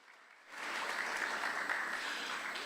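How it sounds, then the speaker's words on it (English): A school audience at an English Day event breaks into loud, dense applause for a group of second-grade students. The clapping starts abruptly after a quiet moment and holds steady with nobody talking over it. "An applause to them."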